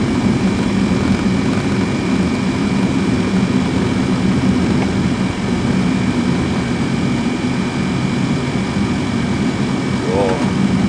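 A Fokker 100 jet taxis at Woensdrecht air base, heard as a loud, steady jet engine roar throughout, with faint radio-style voices underneath.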